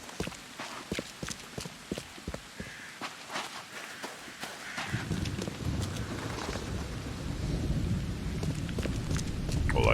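Deep rolling thunder in the horror game The Sinking City, building into a long, swelling rumble with rain after a stretch of footstep-like clopping, growing louder toward the end with no voices.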